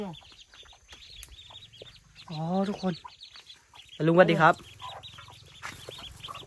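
Ducks raised by an old man on his farm let out two loud bursts of rough quacking among quieter calls, while a voice greets people between them.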